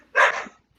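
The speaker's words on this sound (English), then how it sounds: "Why is there barking?" Dogs bark loudly at dinner time indoors, one short, close, harsh bark that fades quickly into a brief tail.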